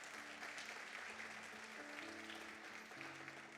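A church congregation applauding during a Portuguese-language communion service, a faint but continuous patter of many hands clapping with a soft sustained musical tone underneath.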